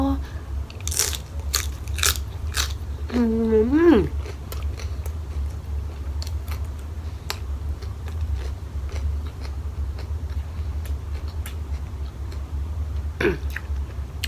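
Close crunching bites and chewing of fresh raw vegetables eaten with dried fish curry, a few crisp bites early then steady quieter chewing, with a short voiced sound near the start and another near the end.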